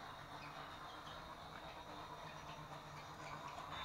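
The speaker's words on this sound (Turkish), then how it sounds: "Tren gidiyor oğlum." An Orbit toy train set runs steadily on its plastic tracks, giving a continuous faint whirring, rattling hum with light clicking. No one speaks.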